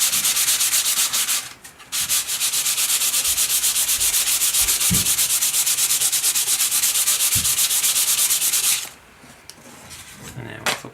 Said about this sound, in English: all we're doing is knocking the wood down just a little to make it smooth